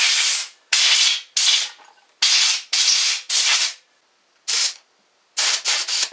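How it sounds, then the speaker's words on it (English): Compressed air sprayed in short, loud hissing bursts through the passages of a 2-stroke carburetor during cleaning, about seven blasts of uneven length separated by brief silences, close up with no talking. "you want to grab your air and give it a nice spray."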